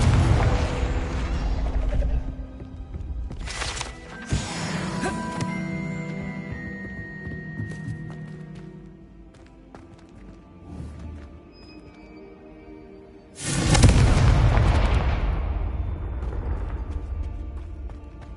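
Spell blasts in Hogwarts Legacy: a booming burst opens, more crackling impacts follow through the middle, and a second loud explosion hits near the end, layered over game music and effects.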